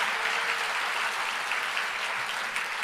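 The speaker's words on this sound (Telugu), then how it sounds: "చక్కగా చప్పట్లు కొట్టండి" A church congregation applauds during a sermon, producing dense, steady clapping that fills the room at an even level from start to finish.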